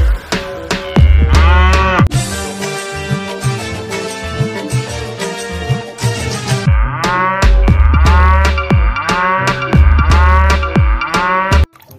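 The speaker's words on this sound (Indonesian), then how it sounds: "lihat di sini ada hewan sapi" A cow moos in a series of loud, drawn-out calls, heard close amid busy, tonal background sound across the whole stretch.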